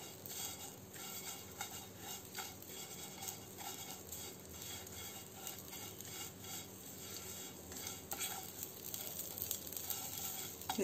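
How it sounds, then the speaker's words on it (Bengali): Raisins frying in a pan for vermicelli payesh, a faint, quiet sizzle with soft scraping and stirring against the pan, and no talking. "কিশমিশ দিয়েও একটু ভেজে নেব।"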